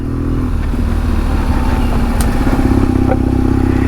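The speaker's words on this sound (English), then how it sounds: "We're now single tracking a BMW 1200 GS Adventure, and it's doing it amazingly well." A BMW 1200 GS Adventure motorcycle is ridden along a single-track trail, its engine a loud, steady close-up drone with a rhythmic, pulsing thrum and occasional clatter.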